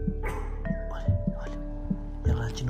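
A dog gives a few short, sharp barks and yips at irregular intervals while a person talks over them nearby.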